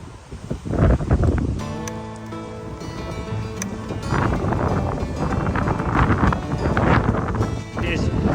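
Strong wind buffets the microphone on an exposed hilltop during a long-distance ride on a small e-bike, a continuous loud rumbling roar that gusts throughout, with a voice speaking over it.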